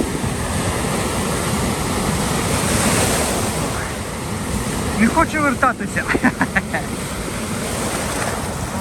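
Ocean waves wash onto the shore in Japan on a hot summer day, a loud continuous surf roar with wind buffeting the microphone while someone speaks briefly over it.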